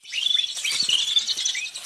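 A bird chirps in a rapid stream of high, bright tweets, close and clear, continuing for about two seconds with no talk.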